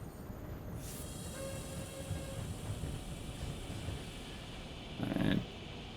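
Train rumbling steadily along the track in the railway-building game ConsTracktion, a continuous mechanical drone with a brief louder burst near the end.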